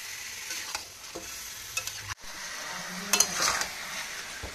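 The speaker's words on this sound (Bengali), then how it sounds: "একটু নেড়ে চেড়ে সাঁতলে নিয়ে তার মধ্যে মাখানো চিকেনটা দিয়ে দিচ্ছি" Marinated chicken stir-fried with spices over a high flame, a moderate sizzle under intermittent stirring scrapes and a few clinks of a utensil against the pan, no talking.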